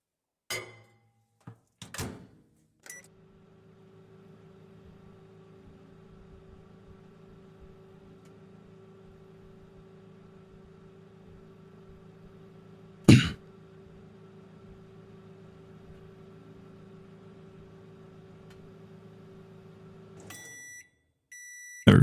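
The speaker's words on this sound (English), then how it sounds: "I take the mug out of the microwave." A video game microwave oven hums steadily for about seventeen seconds while heating a mug, preceded by a few sharp thunks of the door and buttons, with a loud clunk midway and beeps as it finishes.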